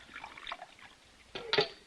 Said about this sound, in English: Pour the coffee.